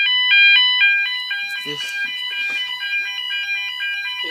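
A fire alarm sounding during a test, a loud, steady repeating electronic tone pattern close by, with a brief voice and some handling noise over it.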